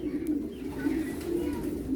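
Pigeons or doves cooing near their nest, a soft, low, rolling coo repeated in a steady rhythm throughout, close and moderately loud, with faint ambient noise.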